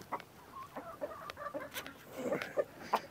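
A hen clucks softly in short, irregular bursts, close by and fairly quiet, with no talking.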